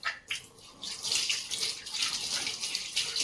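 Water runs steadily from a tap into a basin while steel utensils are washed, a continuous close splashing hiss with slight surges and no talking.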